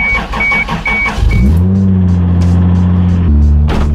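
A Toyota Supra with pop-up headlights gives a brief whirring rattle, then settles into a steady, close engine hum that steps up in pitch near the end.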